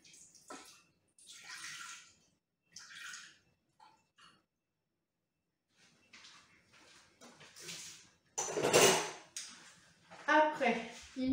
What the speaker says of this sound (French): Je prends de l'eau. Alors, 150 g d'eau.